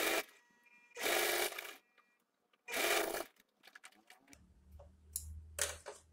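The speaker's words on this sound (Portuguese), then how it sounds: "vão vir costurando aqui." Sewing machine stitching fabric for a small cup-shaped bag, in three short bursts of rapid mechanical whirring separated by pauses, followed by a low motor hum and faint clicking handling sounds.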